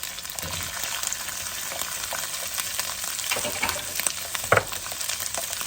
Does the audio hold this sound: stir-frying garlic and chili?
yes